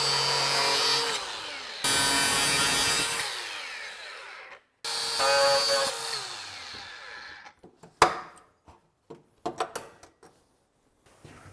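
A power tool cuts metal on a Mustang in a garage, running in loud bursts of a few seconds each with brief pauses between them. Scattered clanks and knocks follow, and no one speaks.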